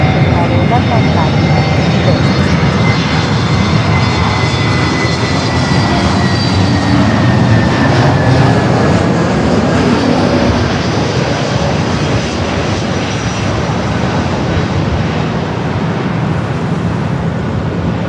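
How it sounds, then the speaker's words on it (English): An American Airlines jet arriving from Honolulu at LAX makes a loud, sustained roar with shifting engine whine tones sweeping slowly downward over many seconds, fairly close, with voices talking intermittently beneath it. "That was American flight coming in from Honolulu"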